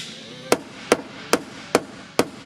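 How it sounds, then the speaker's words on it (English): A hammer tapping a dented car door pillar on a budget wreck repair: five sharp, evenly spaced metallic knocks, close and loud, over a faint background hum. "I'm gonna tap it with a hammer."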